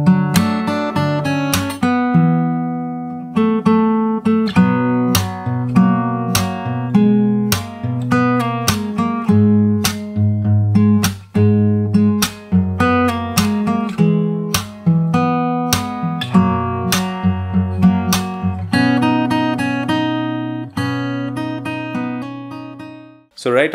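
Solo fingerstyle acoustic guitar plays the chorus of a song leading into the bridge, with clear plucked notes and strummed chords in a steady, unhurried rhythm, close and alone with no talk.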